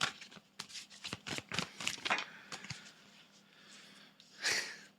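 Tarot cards being shuffled and drawn, a quick run of close, crisp riffling and slapping flicks, followed by quieter handling and one soft rustle near the end.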